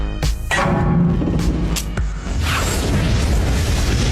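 A loud car explosion in an underground garage in a movie, with sharp bursts and a deep rumbling boom, followed by a roaring, crackling wash of noise that lingers.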